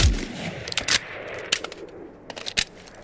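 Sterling SMG firing in a modded Fallout 4 game, with sharp separated gunshots and short bursts scattered across a few seconds, close and loud, with quiet gaps in between.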